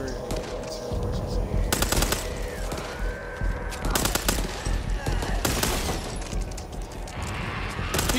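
Rapid bursts of automatic gunfire ripping through a Back 4 Blood match, several loud clusters of shots spread across the stretch with gaps between them, mixed with game noise and voices talking over the action.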